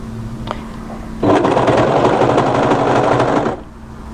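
An overlocker stitches through four layers of sweater fabric at the very edge, a steady high-speed mechanical whir that starts abruptly, runs about two seconds and stops, loud and close with no talk.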